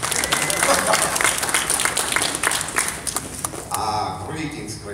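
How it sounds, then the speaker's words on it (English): A crowd at the Horror Host Hall of Fame event gives a burst of applause, dense and fairly loud throughout with claps and crowd noise; a voice is heard near the end. "Big applause for the blind man."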